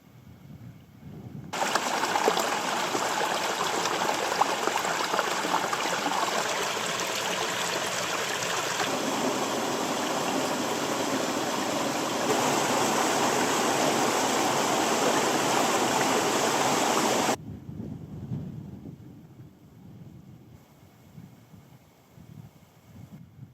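The Barnes River in the Bluestack Mountains of Donegal rushes steadily in a loud, close, continuous broadband torrent for about sixteen seconds, then drops to a quieter outdoor hiss of distant flowing water.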